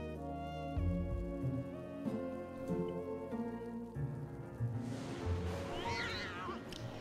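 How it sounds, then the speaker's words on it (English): Pet cat meowing a few times in the background of a game stream, with music or game audio playing throughout and a patter of rain-like noise toward the end. "I heard a cat!"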